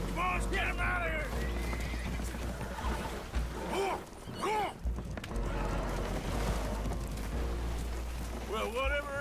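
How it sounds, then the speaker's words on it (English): Spooked horses whinny and neigh repeatedly aboard a damaged, leaking boat in Red Dead Redemption 2, loud and close with steady water and ambient noise beneath, several sharp rising calls spread across the scene. "Horses are spooked, and we're taking on water."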